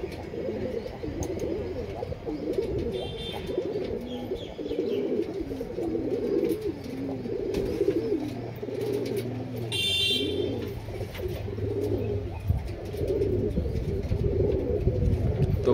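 Pigeons in a pigeon house coo repeatedly in soft, rhythmic, throaty bursts close by, over a steady low hum, with a brief brighter chirp partway through and no talking.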